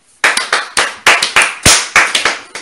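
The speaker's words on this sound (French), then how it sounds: "C'est la sœur Grâce. Applaudissez pour elle." A church congregation claps for Sister Grace in a run of about ten sharp, close claps at an uneven, quickening rhythm, loud and clear with no talk over them.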